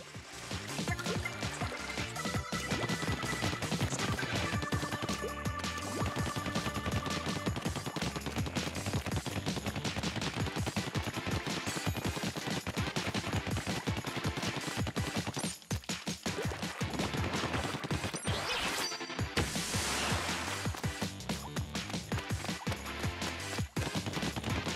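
Splat bomb explosions and ink fire in a Splatoon 2 match, forming a dense, loud, continuous barrage of bursts and splattering noise that runs almost unbroken throughout.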